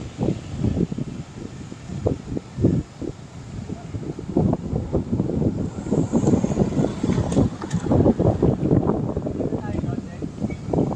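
Strong wind buffets the microphone during a group bike ride from Meycauayan to Dingalan, with steady low roaring gusts throughout and riders talking under it.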